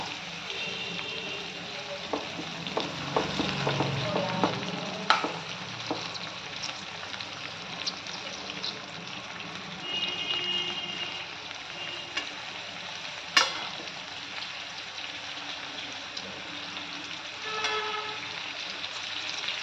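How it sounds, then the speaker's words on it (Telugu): Stuffed brinjals fry slowly in oil with a steady soft sizzle and crackle. Occasional clicks from a utensil turning the pieces cut through it, and a voice speaks faintly now and then underneath. "మెల్లగా వేయించుకోవాలి నూనెలో వేసినాక."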